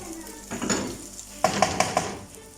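Chicken sizzles in a hot pan on high heat, with a burst of frying hiss followed by several sharp metallic clinks of a utensil stirring against the pan.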